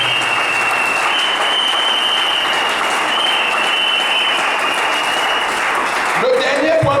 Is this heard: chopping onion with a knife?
no